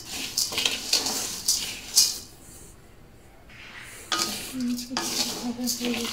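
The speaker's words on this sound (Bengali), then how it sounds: "এখন আমি মিডিয়াম আঁচে অনবরত নেড়ে চেড়ে মচমচে করে ভেজে নেব" On medium heat, ingredients for homemade besan (gram flour) are stirred and fried, giving repeated scraping and clattering in the pan that comes in bursts with a short quieter pause in the middle.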